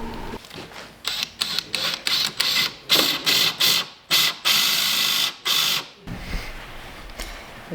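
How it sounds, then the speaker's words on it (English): Boring a 2-inch hole into a wooden rudder stock tiller for a sailing boat, heard as loud, close bursts of drilling that start and stop repeatedly, each lasting about half a second to a second, followed by a quieter rumbling tail. "So now I'm going to bore out a 2-inch hole."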